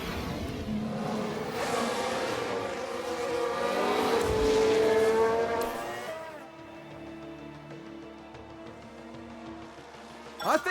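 Formula 1 car in F1 Manager 22 locking its brakes, a loud engine whine swelling and then dropping away into quieter track noise, with a sharp burst right at the end.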